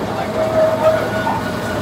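Steady rumble of a moving haunted-attraction train ride at a Florida farm, with rhythmic rail noise and a faint high squeal, voices murmuring over it.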